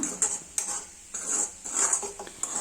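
Green beans for a Kerala payar thoran, with coconut and garlic, being stirred and dry-roasted in a pan: repeated scraping strokes of a spatula against the metal, coming in short irregular bursts with brief pauses, close and fairly quiet.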